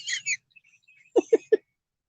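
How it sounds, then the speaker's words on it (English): A bird calls at night, with a couple of short high chirps followed by three quick, louder lower notes, fairly close and alone against quiet. "Now all I can hear is that bird."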